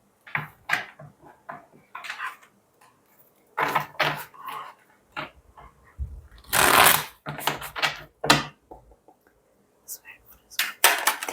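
Tarot cards being shuffled by hand in a reading, with repeated riffling and card slaps in bursts, close and fairly loud, with quiet pauses between and a heavier shuffle around the middle.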